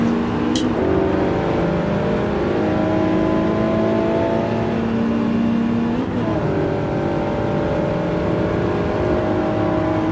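A Camaro race car in a racing game at Laguna Seca roars continuously, its engine note rising and falling through gear changes with layered harmonics, loud and close throughout with no talk.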